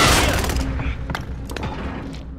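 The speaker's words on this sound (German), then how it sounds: "Hey, auf mich wird geschossen!" Gunfire in Call of Duty: Warzone opens loud and close, followed by several sharper, quieter cracks further off that trail away across the fight.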